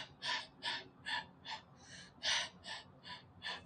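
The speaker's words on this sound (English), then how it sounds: "They breathe heavy." Heavy breathing from a person: a quick, regular run of sharp, close breaths, about two or three each second, fairly faint and with no talk.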